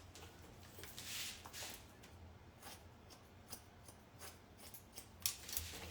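Scissors snip through hair while point-cutting a short layered French bob, giving a string of quiet, crisp close-up clicks at an irregular pace with soft rustling between cuts.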